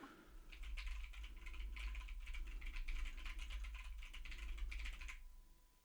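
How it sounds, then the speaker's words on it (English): Fast, clattering keystrokes on a loud computer keyboard on a desk, a close, continuous burst of typing for about five seconds, then stopping, with no talking. "If I type on my admittedly quite loud keyboard"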